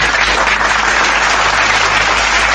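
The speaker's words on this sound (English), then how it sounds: "Give yourself a round of applause" A dense, loud wash of many hands clapping continuously, close and steady, with no voices rising above it.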